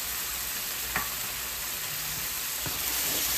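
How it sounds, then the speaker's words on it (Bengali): Spiced masala frying with tomato paste in a pan for Bengali pabda fish curry, giving a steady close sizzle with a couple of brief scraping stir strokes throughout. "আমি টমেটোর সঙ্গে মশলাগুলোকে খুব ভালো করে কষিয়ে নিচ্ছি।"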